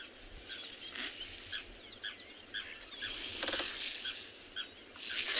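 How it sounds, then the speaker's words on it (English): A blacksmith lapwing calls during a sunset safari, giving sharp repeated metallic notes spaced through the scene, fairly close and moderately loud over a quiet outdoor background with other faint bird sounds. "And that's a blacksmith lapwing."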